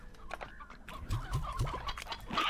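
Chickens in the video game Slime Rancher cluck in a quick run of short, throaty calls, close and fairly soft, with a brighter squawk at the very end.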